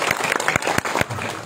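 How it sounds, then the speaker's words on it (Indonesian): A church congregation at a worship service in Tatelu, North Minahasa, breaks into a brief burst of clapping, loud and close, with sharp individual claps standing out. "Tepuk tangan dulu, beri kemuliaan bagi orang."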